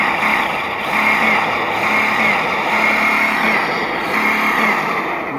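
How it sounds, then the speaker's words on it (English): An Imex HG-P408 Humvee RC truck's motor is revved in neutral, a loud, continuous whine that rises and falls in repeated pulses with no talk over it. "It's in neutral right now, so we can rev the truck up."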